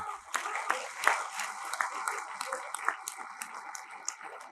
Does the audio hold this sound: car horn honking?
no